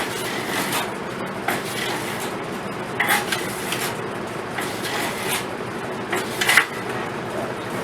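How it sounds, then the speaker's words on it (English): Sandpaper on a sanding block rasps steadily along the blades of a Craftsman 22 inch hedge trimmer. The scraping is continuous, with a few sharper metallic catches and clinks. "Tilting the block, sanding block, a little bit like this to exaggerate so that the blades don't catch on the sandpaper."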